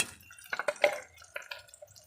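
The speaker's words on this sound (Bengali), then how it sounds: "সামান্য একটু জল দেবো" A little water is poured into a spiced pitha filling mixture, making a brief, faint cluster of drips and small splashes that trail off quickly.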